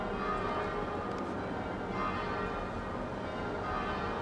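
A full peal of ten church bells in Old Portsmouth rings continuously, many tones blending in an even wash, heard from some distance without talking.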